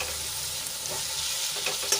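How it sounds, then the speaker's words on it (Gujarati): Brinjal and peas sautéing in a pan for a Kathiyawadi vegetable dish, a steady close crackling sizzle with faint stirring scrapes, no talk. "આપણા રીંગણા અને વટાણા થોડાક સંતળાઈ ગયા છે"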